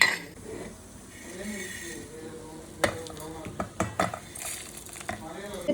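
Three spoons of coriander seeds fry in a pan with a low, faint sizzle, while a spoon stirs and clinks against the metal in quick taps. A voice talks softly in the background.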